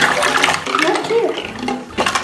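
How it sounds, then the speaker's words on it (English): Water swirling into a whirlpool made with sea animal toys, a continuous splashing churn heard close up under a child's and an adult's voices. "Collects in a whirlpool."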